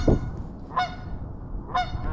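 Two loud, nasal honks come from Canada geese on the Columbia River, spaced about a second apart over a low outdoor rumble, with no speech.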